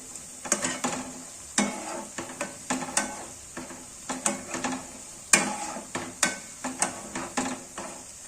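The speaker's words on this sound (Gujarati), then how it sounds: "એકદમ સાવ સ્લો ફ્લેમ ઉપર જ આપણે ફ્રાય કરવાના છે એને." Taro leaf patra frying on a slow flame, with a soft steady sizzle beneath repeated sharp clinks and scrapes of a utensil against the pan, close and moderately loud, no voices.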